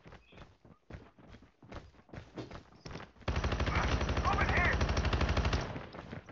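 A video game gun with heavy recoil fires a rapid, sustained automatic burst for a couple of seconds, loud and close, after a stretch of talking.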